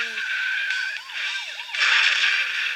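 Car crash in the physics game Turbo Dismount: tire squeals, a wavering siren, engine noise, then a harsher burst of crunching impact noise, all fairly loud with no talking.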